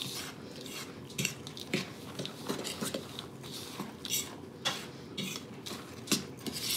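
Grated butter is tossed through pumpkin oat ginger scone dough in a mixing bowl. Soft, quick clicks and light scrapes repeat unevenly, close and quiet.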